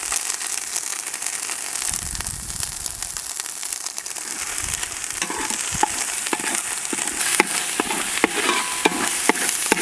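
Ginger-garlic paste and green chili paste fry in hot oil with a continuous close crackling sizzle. Sharp pops and stirring clicks sound throughout, and a brief low rumble comes early on.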